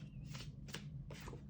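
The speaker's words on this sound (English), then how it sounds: "I shuffle in several different ways, and I happened to pick the longest shuffle in town here" Tarot cards shuffled by hand in a long, continuous shuffle, with repeated papery riffling bursts over a steady low hum.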